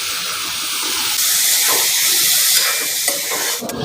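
Chicken and onions sizzle in a pan for a Kerala-style chicken gravy as they are stirred, giving a loud, steady hiss with a few brief scraping bursts near the end and no talking.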